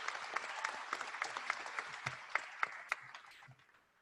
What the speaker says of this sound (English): So give yourselves a round of applause right now.